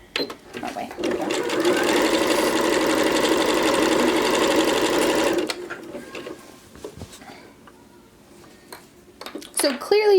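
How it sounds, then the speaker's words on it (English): A sewing machine stitches a zipper onto a scarf in one loud, steady run of about four seconds, followed by quieter clicks and fabric handling. A voice speaks near the end. "I'm going to just go ahead and start sewing this down."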